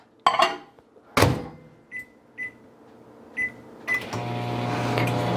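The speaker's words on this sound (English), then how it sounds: "I'm gonna put this in the microwave." A microwave door thunks shut, buttons beep several times, then the oven starts and settles into a steady low hum.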